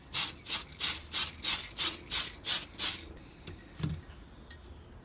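A model car chassis is spray-primed from an aerosol can in nine short, evenly spaced hissing bursts, close and loud, followed by a few quieter clicks and handling noises.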